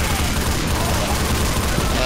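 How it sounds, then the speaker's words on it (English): Rapid crackling bursts of fireworks in a Left 4 Dead 2 survival round, a dense, continuous popping barrage filling the short stretch without pause. "Fireworks Gone off"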